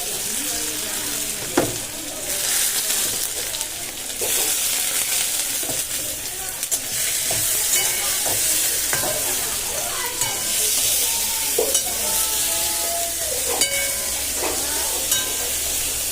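Thin-grain white rice is stir-fried in a hot pan into fried rice, a steady close sizzle broken by repeated scrapes and clinks of the spatula, with some talk in the background.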